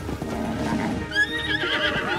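A giant horse in the video game Zelda: Tears of the Kingdom gives a wavering whinny that rises over a dense bed of game sound and clopping, loud and near through the second half.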